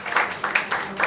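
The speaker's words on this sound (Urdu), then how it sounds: "इनके लिए तालियां होनी चाहिए" Applause from the audience at a book launch in Pakistan, a short spell of dense, steady clapping that swells and eases.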